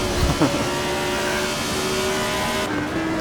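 A 1975 Formula One car in the Assetto Corsa racing game screams under acceleration out of a corner, a sustained high engine whine with a brief downshift blip, close and steady, with no talk.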